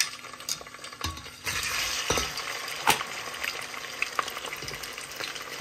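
Prawns hit hot oil and fry with a steady, close crackling sizzle, punctuated by brief stirring knocks and spatters, with no talking over it.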